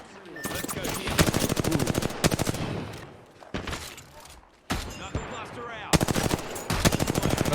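Automatic gunfire in the shooter game Apex Legends, several rapid bursts of sharp crackling shots with short pauses between them, loud and close, with some people talking underneath.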